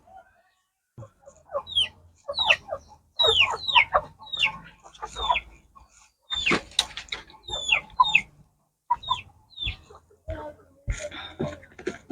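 Chickens cluck in a steady series of short, close calls with brief pauses, fairly clear and loud, as breeding birds are handled for an injection.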